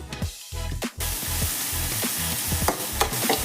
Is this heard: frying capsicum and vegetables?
yes